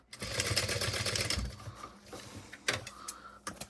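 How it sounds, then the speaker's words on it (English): A sewing machine stitches fabric ear pieces for a pack, a rapid steady run of needle clatter for about a second and a half, then scattered clicks and handling noises at close range. "we're sewing this on at about 1/4 inch in on these ear pieces"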